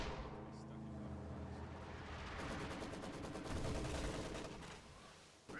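PPSh submachine guns fire in a Company of Heroes 2 battle as rapid overlapping bursts of distant gunfire crackle steadily, rising in intensity toward the end before cutting off.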